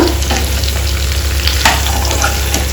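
Ridge gourd curry cooks in a pan, with a steady sizzle, faint frying crackle and a few soft scrapes of stirring close by.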